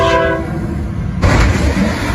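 A train horn blares loudly at a crossing while the train rumbles past nearby, the horn cutting off partway and leaving heavy rolling rail noise and rumble.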